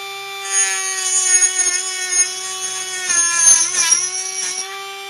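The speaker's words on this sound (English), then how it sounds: "So I just just use a basic Dremel tool with a cutting edge." A handheld Dremel rotary tool with a cutting disc slices into an aluminum Monster energy drink can to make a stove. It gives a steady, close, high-pitched whine with a rough rasping grind as the cut goes on.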